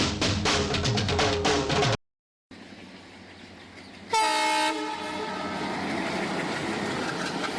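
A crowded Mumbai local commuter train rumbles along steadily and loudly, with a brief dropout, then a bright horn-like tonal burst and continued rail noise; the station announcement for Grand Road plays in a staged drama setting.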